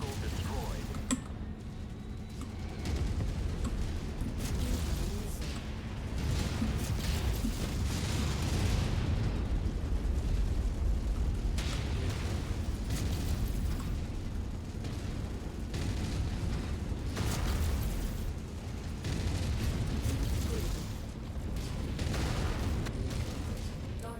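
Explosions and heavy weapon blasts in a MechWarrior 5 battle as an enemy vehicle is destroyed, with booming bursts running steadily over a dense, continuous rumble of combat noise.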